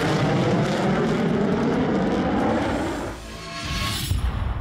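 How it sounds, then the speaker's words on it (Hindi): Twenty South Korean and American fighter jets, including F-35s and F-15s, fly together in formation; a loud, continuous jet roar fills the air, easing briefly before swelling again near the end. "तब कुल मिलाकर 20 फाइटर जेट्स आसमान में एक साथ उड़े।"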